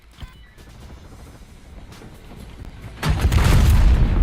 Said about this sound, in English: the grenades in this game are insane